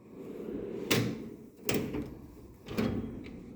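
Three metal toolbox drawers slide open or shut one after another, each a short scraping clunk, close by over a low background hum.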